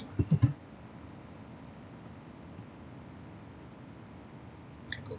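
A computer keyboard gives a brief burst of a few quick, close typing clicks at the start, then near silence, with a couple of faint keystrokes at the very end.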